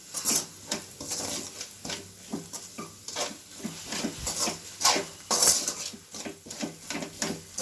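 A spoon stirs and scrapes through egg curry in a pan with salt and chilli powder, giving repeated soft metallic clinks and scrapes in an uneven rhythm, close by and fairly quiet, with no voices.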